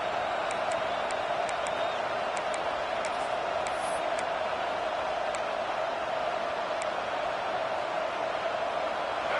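Stadium crowd at a UCLA at Nebraska college football game roaring steadily on a big third down, a dense continuous wash of cheering with scattered whistles and whoops, loud and sustained throughout.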